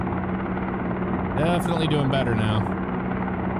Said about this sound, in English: I'm just trying to fly the helicopter without dying here.